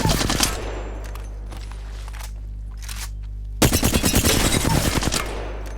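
Flatline assault rifle in Apex Legends fires rapid full-auto bursts, a sustained rattle of gunfire with a brief lull before a louder, closer burst near the end.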